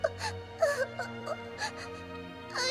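Child wails and whimpers in an animated film, with several short, wavering sobbing bursts in close succession over a soft low musical background.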